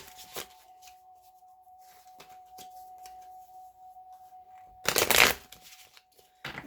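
Holographic Rider-Waite tarot deck being shuffled, a few short riffling bursts with one loud close flurry near the end, over a faint steady tone.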